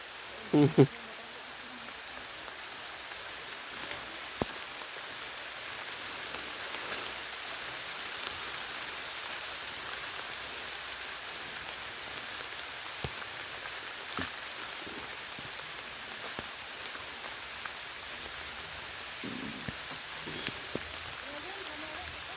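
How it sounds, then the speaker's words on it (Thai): Steady rain falls through a forest, a constant broadband hiss with a few scattered louder drips and knocks, heard close and alone with no talking. "นางย่านฝนตกพี่น้อง"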